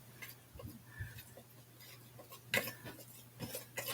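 Canned beans being mixed with flaxseed in a bowl, heard as quiet, scattered clinks and scrapes of a utensil against the bowl, sharpest near the end.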